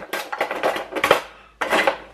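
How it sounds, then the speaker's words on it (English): Metal tongs clattering against pots in a kitchen, a quick series of bright, close metallic clinks and scrapes, a short pause, then another burst of clanking. "grab some tongs"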